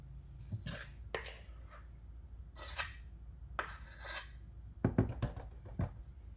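Peanut butter cookie dough scooped and slapped onto a baking sheet, with soft scraping, rubbing and tapping sounds in short bursts and a cluster of quick clicks near the end, close and fairly quiet.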